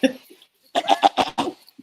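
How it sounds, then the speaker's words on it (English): A short vocal sound followed by a cluster of rough, chopped throat-clearing bursts, close and fairly loud. "Let me clear my throat."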